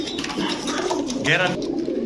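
Pigeons kept for sale, young birds sold in pairs, coo close by in a busy setting with a steady wash of background noise and voices mixed in.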